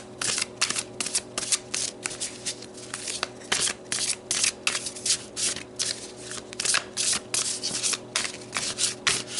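Oracle cards being shuffled by hand: rapid, rhythmic papery riffling and rubbing in repeated close bursts, with a faint steady hum beneath and no talking.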